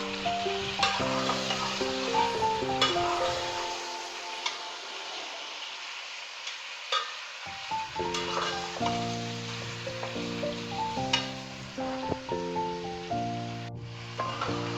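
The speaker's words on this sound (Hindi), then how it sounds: "अब हम गोश्त के साथ इसको अच्छा सा भूनेंगे जब तक कि गोश्त का कलर चेंज नहीं हो जाता" Mutton pieces sizzle and fry in a pan while being sautéed for palak gosht, with a steady crackling hiss and occasional stirring scrapes under light background music.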